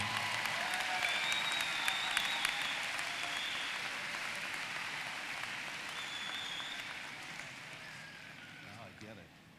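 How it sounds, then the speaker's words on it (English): Sustained applause from a large audience at a 2014 high school commencement, honoring the band and choir students, steady and dense for the whole stretch before slowly thinning out. "Please give another round of applause to our band and choir students for their contribution today."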